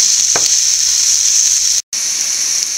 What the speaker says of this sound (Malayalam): ഇനി നല്ലപോലെ വഴറ്റിയെടുക്കുക